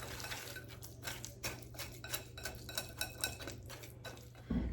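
Brown sugar stirred in a bowl to break up lumps, with a utensil clinking and scraping against the dish in an uneven rhythm and a low hum underneath.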